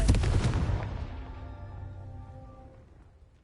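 A Confringo blast spell in Hogwarts Legacy: one loud, close explosive burst that hits hard at the start, then rumbles and rings out as it fades over about three seconds, with no talking.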